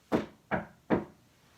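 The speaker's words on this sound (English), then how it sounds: "I knocked on the brick house." Three firm knocks on the door of a brick house, evenly spaced and close, each a sharp thud with a short decay, with no voices.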